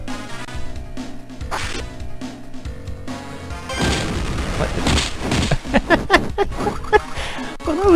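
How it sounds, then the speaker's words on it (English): An explosion in a Spider-Man video game bursts out loudly after a stretch of game music, followed by crashes, whooshes and debris-like thuds over several seconds. "that was some interesting timing about, you know, the explosion right on the nun"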